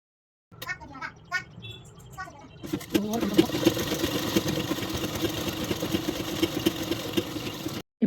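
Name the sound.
sewing machine stitching the edge seam of a blouse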